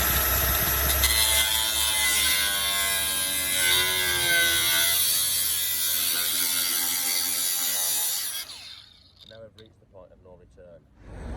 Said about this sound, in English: I'm going to cut this out now with a slitting disc